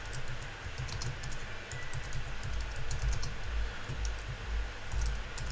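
Fingers type on a computer keyboard, a quiet, steady patter of rapid key clicks heard up close and alone for several seconds.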